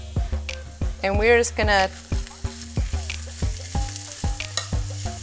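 Ground beef sizzles and scrapes in a pan while being stirred and chopped into small pieces for a tailgate dip, with steady spatula knocks under the frying and a brief voice speaking early on.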